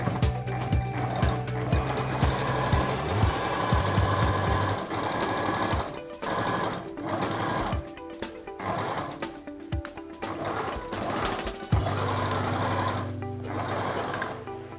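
A sewing machine stitches the shoulder placket of a male celestial garment (sutana), a steady loud mechanical whirr with motor hum, pausing briefly and stuttering in short bursts before running continuously again.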